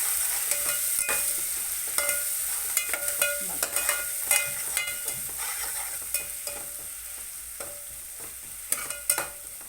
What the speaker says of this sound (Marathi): करीपत्ता पण तेलावर टाकायचा आणि ह्याला असं फ्राय करून घ्यायचं